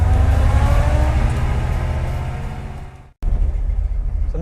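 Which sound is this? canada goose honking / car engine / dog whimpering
car engine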